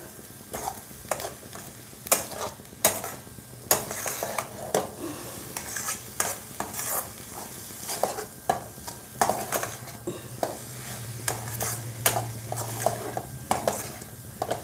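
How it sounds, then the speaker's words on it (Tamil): Banana flower stir-fry being fried with spice powder in a pan, with repeated metallic scrapes and clinks of a spatula against the pan over a soft background sizzle, in an uneven rhythm. "இந்த பொடியை போட்டுட்டு நல்லா ஃப்ரை பண்ணிடலாம்"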